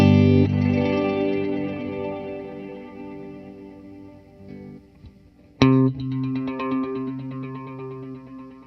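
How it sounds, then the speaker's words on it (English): Encounter ambient delay and reverb pedal on its reverse engine, sustained chords smeared into cascading delays, fading, then a sharp new chord near the middle blooming into more layered reverse repeats; loud and alone. "the reverse engine, that lets you at 0 go to basically a single tap delay sound, and as you increase it, you get more of those sort of splits, those cascades"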